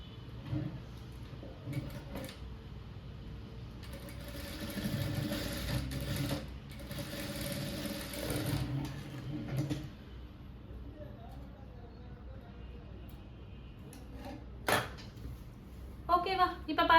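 Blouse fabric run through a sewing machine in bursts of steady mechanical stitching, close by, with pauses and clicks of handling in between; a voice talks softly in places.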